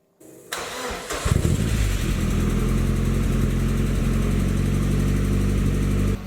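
A Ford Escort RS Cosworth turbo engine cranks briefly and catches, rising quickly into a loud, close, steady idle with a deep rumble that holds for several seconds, with no talk.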